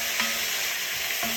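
Pepper steak meat sizzling in a hot pan while being stirred, a steady bright frying hiss with two brief scraping stirs of the utensil, close and alone.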